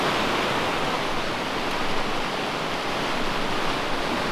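A waterfall at Gordale Scar in the Yorkshire Dales, swollen after snow and wet weather, pours over limestone rock with a loud, steady, close roar and no voices.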